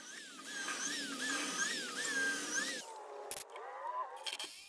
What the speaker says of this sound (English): I use my drill to get it most of the way in